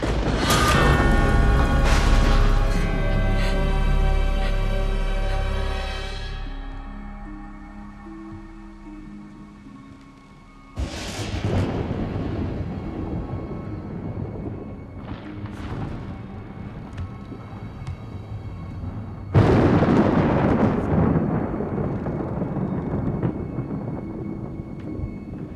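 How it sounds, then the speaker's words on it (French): Deep booming thunder from a night storm rolls in loud waves, with a long fading rumble followed by two fresh crashes that swell and linger, no voices present. "Tu as peur de l'orage?"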